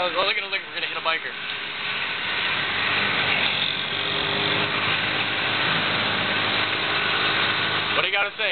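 A motorbike engine runs with a steady, rough mid-pitched drone, loud and close, while voices talk briefly at the start and end.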